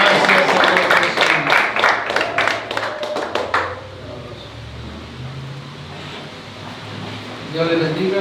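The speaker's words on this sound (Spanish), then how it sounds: "vamos a recibir al pastor Miguel López de la iglesia de Durango con un fuerte aplauso a nuestro Señor" Applause from a church congregation welcoming a pastor at a worship gathering, a dense burst of clapping for about three and a half seconds that fades, followed by a quieter room with faint murmuring.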